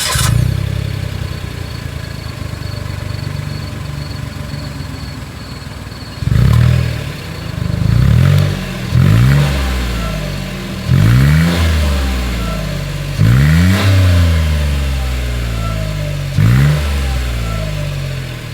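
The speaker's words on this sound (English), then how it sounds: "As always, here is that exhaust clip." A 2024 Mitsubishi Mirage exhaust idles with a deep rumble, then revs sharply several times in repeated bursts, each climbing in pitch before dropping back.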